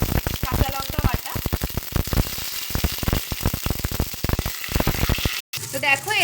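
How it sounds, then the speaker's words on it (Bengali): Spices with ginger paste and green chili paste frying in hot oil for a Bengali vegetable dal, a loud, dense sizzle with crackling bursts and a brief drop-out near the end. "এদিকে কিন্তু আমাদের মশলাটা ভাজা হয়ে এসছে"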